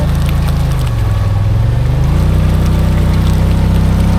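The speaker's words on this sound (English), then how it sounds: "your whole CV axle's just spinning in goop" Can-Am Maverick XMR UTV with its CV axle spinning in thick mud, a loud continuous engine and drivetrain drone that dips in pitch briefly then steadies, close up with no talk.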